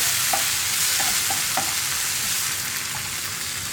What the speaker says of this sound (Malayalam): ഇനി നമുക്കിതിലേക്ക് നമ്മൾ കട്ട് ചെയ്ത് വെച്ചിരിക്കുന്ന തക്കാളിയും ചേർത്ത് കൊടുക്കാം